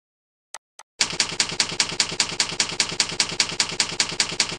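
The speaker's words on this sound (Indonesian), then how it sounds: "suara mesin tiknya ini uh, terlalu monoton lurus" Two isolated key strikes, then a rapid, evenly spaced run of typewriter clacks continuing without pause, close and loud, mechanical and uniform.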